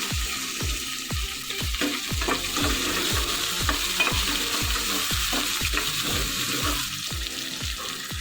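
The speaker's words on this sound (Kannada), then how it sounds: "ಮತ್ತು ಹೆಚ್ಚಿಟ್ಕೊಂಡಿರುವಂಥ ಈರುಳ್ಳಿ ಹಾಕಿ, ಸ್ವಲ್ಪ ಕರಿಬೇವು ಹಾಕಿ ಸ್ವಲ್ಪ ಬಾಳಿಸ್ಕೋಬೇಕು." Chopped onion and curry leaves sauté in hot oil in a pan. A loud, continuous sizzle runs under a steady rhythm of spatula scrapes, close up and with no talk.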